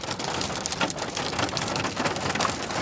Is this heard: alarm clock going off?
no